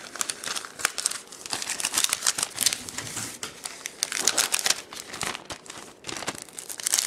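A plastic bag, roughly 8 by 7 inches and cut to fit as a metal detector screen cover, crinkles and crackles steadily as hands handle it and work it open, close and continuous with no talking.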